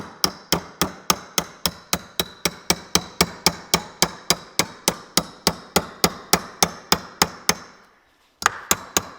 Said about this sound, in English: All you're gonna do is tap on this Johnny until it pushes the whole entire